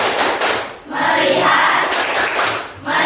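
A classroom focus clapping pattern led by a teacher, loud rhythmic claps from a group of pupils in quick bursts with a short pause between patterns.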